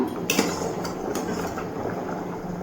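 A pot lid lifted off a pot of chalta fruit boiling on the stove gives a couple of light metallic clinks over a steady low bubbling hiss, close by.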